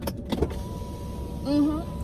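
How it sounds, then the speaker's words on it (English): A car's power window motor whirs briefly as the window rolls down, a short tonal hum following a few clicks and knocks, near and moderately loud, no voices. "When somebody come in, they try to roll the window down."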